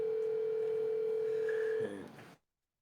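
Telephone ringback tone of an unanswered call, a single steady electronic tone held for nearly two seconds and then cutting off, faint background murmur underneath and no talk.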